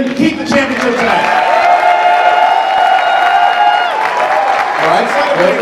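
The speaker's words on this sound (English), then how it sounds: "Round of applause." An audience at a live Schmoedown movie-trivia event applauds and cheers for the start of the match, a loud continuous crowd roar with clapping and voices mixed in throughout.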